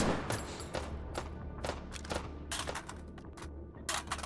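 A gun fires repeatedly in the VR game Hot Dogs, Horseshoes & Hand Grenades, with a dozen or so sharp shots at uneven intervals and mechanical clicks in between.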